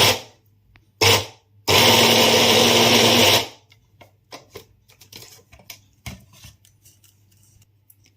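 A kitchen blender mixing banana spread as oil is added: a brief whirring pulse, then a steady loud run of about a second and a half, followed by quieter clinks and handling noise.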